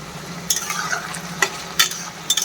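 Onions fry in a pan for mutton curry, giving a steady crackling sizzle broken by a few sharp scrapes and clacks of a stirring spoon, close and fairly loud.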